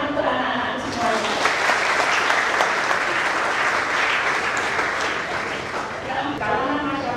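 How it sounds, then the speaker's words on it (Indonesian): A crowd claps enthusiastically for several seconds at a youth health symposium, a dense burst of applause that swells then eases, with voices briefly audible at start and end. "Tepuk tangan untuk anak-anak semuanya."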